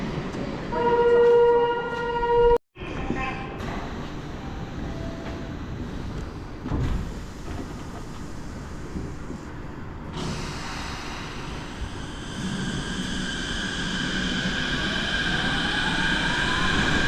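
A Chiba suspended monorail train runs steadily above the city, a continuous rumbling ride noise with a brief dropout early on and a rising whine in the second half, with no talking.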